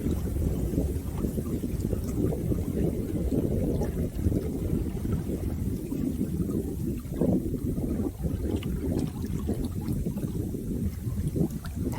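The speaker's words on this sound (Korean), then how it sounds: "당신이 듣고 있는 이 물소리는" Continuous flowing water murmurs close by in a low, rushing wash with small splashes and bubbling, steady and soothing without voices.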